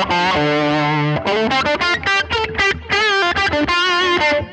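Electric guitar played through a Line 6 Helix Tweed amp model with a Fender-style gritty top end, a loud, distorted blues phrase of sustained notes and quick bends, heard alone and up close.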